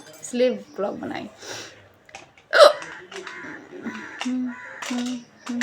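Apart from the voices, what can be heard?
hiccup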